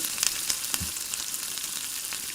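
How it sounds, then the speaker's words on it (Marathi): Masala with onion, tomato, ginger, garlic and chili powder fries in a pan for a dry soya chunks curry, a constant hissing sizzle with a few sharp spoon taps and stirring clicks. "आणि हा मसाला चांगला परतून घ्यायचा आहे"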